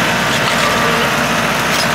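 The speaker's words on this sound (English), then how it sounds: "Kinsley, look at the skeleton driving the tractor." A tractor engine hums steadily and loudly nearby while pulling a hayride at a pumpkin patch, a constant low mechanical drone with no talk over it.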